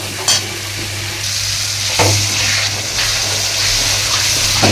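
A paste of ground ginger, cumin, tomato and salt frying in a pan, a loud continuous sizzle close by with a few sharp scraping strokes of the spatula.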